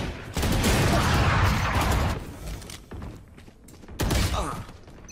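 Vandal rifle fire in Valorant while strafing, a dense, loud burst of shots followed by a shorter second burst, with heavy game noise and some talk over it.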